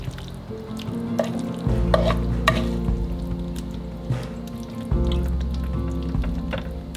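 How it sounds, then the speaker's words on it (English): Pie filling is stirred and heated in a pan, with a soft sizzle under a low hum, and several spoon scrapes and taps against the pan at uneven intervals. "Stir this all, heat it through"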